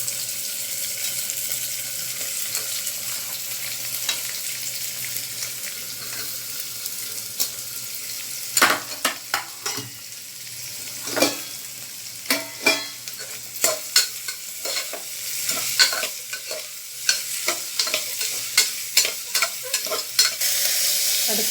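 Onions fry in a cooker with a steady sizzle, joined midway by repeated scraping stirs of a spoon against the pot, close and fairly loud with irregular rhythm.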